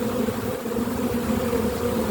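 Honeybees work at a hive in good pollen weather, a steady, close hum of many wings that holds level and unbroken throughout with no voices over it.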